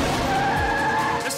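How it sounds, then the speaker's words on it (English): A cartoon garbage truck drives off with loud, continuous tire skidding and engine noise lasting over a second, heard alone without voices. "It's a garbage truck!"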